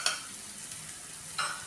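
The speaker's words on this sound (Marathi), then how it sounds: "आता व्यवस्थित फिरून घेऊया." Turmeric and chilli powder frying in a pan, a soft steady sizzle with two brief scraping stirs at the start and near the end, quiet and close.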